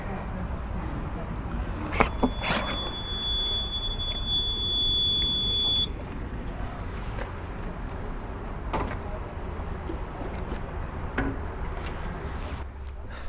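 Code lock on the door of a Morelo Loft motorhome at a camping and caravanning expo gives a steady electronic beep for several seconds, then a few clicks, over constant crowd hubbub with someone talking.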